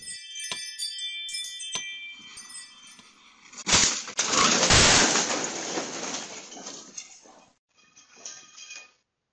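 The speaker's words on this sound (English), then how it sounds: "A Tesla driver lost control and accelerated into a neighbor's house." A Tesla accelerating out of control and crashing into a neighbor's house in West Sills, California: a sudden loud burst of impact and breaking debris with glassy clinks and tinkling, then scattered rattles fading away.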